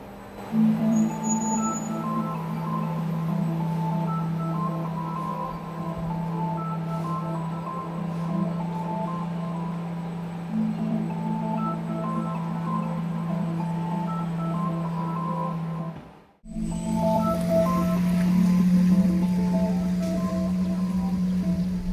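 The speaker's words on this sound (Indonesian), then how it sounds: "suara ini biasa dikenal dengan AVAS atau Acoustic Vehicle Alert Sound, atau suara buat kasih peringatan ke pejalan kaki kalau ada mobil listrik lagi lewat" Steady synthetic hum with layered tonal bands from a Neta V2 electric car's pedestrian warning system while driving, continuous and fairly loud, briefly cutting out before resuming at a slightly different pitch.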